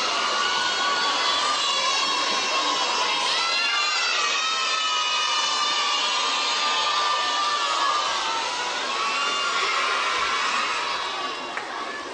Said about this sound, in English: Students, don't shout.